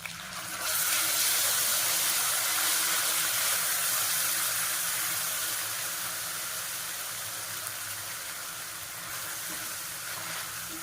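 Ginger garlic paste sizzles in a hot pan while coconut rice is being cooked, giving a steady, loud, even hiss that runs throughout and eases slightly toward the end, with no talking.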